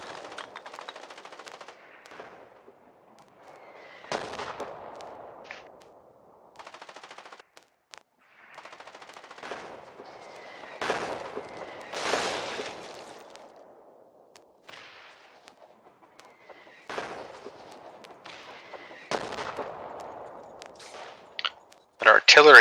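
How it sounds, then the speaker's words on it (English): Machine-gun bursts and booming artillery blasts from the war game Foxhole ring out in irregular volleys, some near and sharp, others distant, with short quiet gaps between, ending in a loud cluster of shots. "But artillery is almost relentless. Still firing on the main Warden line at the moment."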